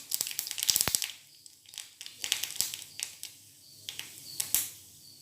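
Faint, irregular crackling and sharp little pops of mustard seeds spluttering in hot oil, scattered over a quiet background.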